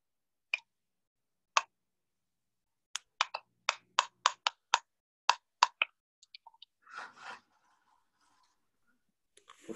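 Snare drum samples auditioned one after another in beat-making software: two isolated sharp hits, then a quick run of crisp, evenly spaced snaps, trailing into a few softer, shorter sounds.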